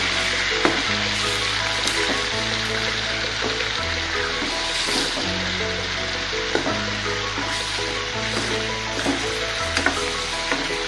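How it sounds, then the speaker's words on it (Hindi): Chicken frying in a pan for karahi gives a loud, continuous close-up sizzle and crackle for about eleven seconds, with occasional stirring scrapes and a low background hum running underneath. "चिकन को पहले मैं अच्छे तरीके से फ्राई होने दूंगी।"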